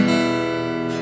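A six-string acoustic guitar chord rings out sustained and fairly loud, its strings blending into one steady chord.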